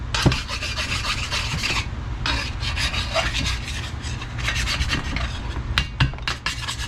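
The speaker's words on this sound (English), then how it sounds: "let's mill out some cross hatches in here" Continuous rasping, scraping abrasion as cross hatches are milled into an engine cylinder wall, steady and close with small clicks and brief variations throughout.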